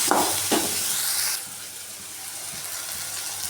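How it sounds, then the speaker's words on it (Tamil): Onions and tomato sautéing in a pan for rava upma: a loud, close, hissing sizzle with a couple of stirring scrapes at the start, easing to a softer steady fry after the first second. "பாருங்க நல்லா வெங்காயம் வதங்கி வந்துருச்சு வதங்கி வந்ததுக்கப்புறமா நம்ம தக்காளி சேர்த்துக்கலாம்"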